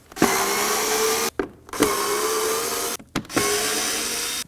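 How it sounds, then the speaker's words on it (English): A cordless screwdriver whirs in three sustained bursts, each about a second long with short pauses between them, as Phillips screws are backed out of the upper edge of a 2016-2020 Kia Sorento front grille. "we're going to go ahead and remove these 4 Phillips screws that are located at the top"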